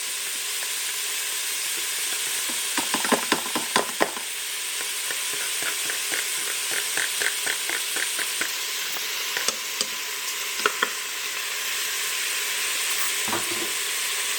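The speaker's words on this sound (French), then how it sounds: "Quand ça commence à bien être revenu, vous rajoutez votre riz" Rice with chipolatas sizzles steadily in a frying pan, a continuous loud hiss broken by clusters of scraping stir strokes, with no voices.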